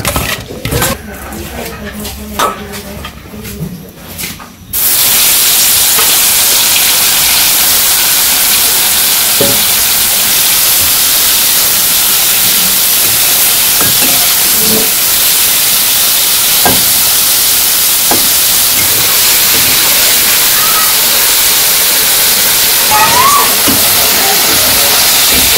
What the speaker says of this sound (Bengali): তেল গরম হয়ে গেছে, আর মাছগুলো দিয়ে দিই।